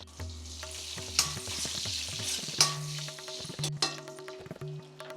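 Chopped onion and crushed garlic sizzle in hot oil for a Hosapete-style stuffed brinjal palya, with a steady broadband hiss and occasional spoon scrapes against the pan. A soft tonal backing runs underneath.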